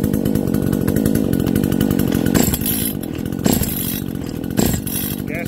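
A Komatsu/Zeno 5800 clone chainsaw on gasoline fires up for its first start and runs at a steady, loud idle, with three sharp revving bursts cutting through the engine drone.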